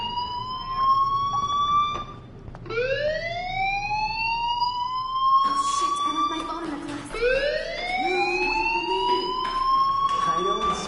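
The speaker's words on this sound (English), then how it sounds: "Hey, do you hear that fire alarm?" A fire alarm in the video game Life is Strange Remastered wails in repeated rising siren sweeps, loud and steady, with a voice talking underneath.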